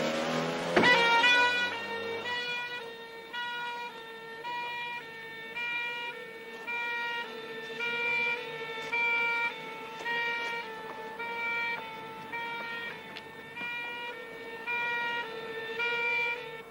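An ambulance siren wails continuously in a steady, tonal cycling pattern, clear and fairly prominent with no voices over it.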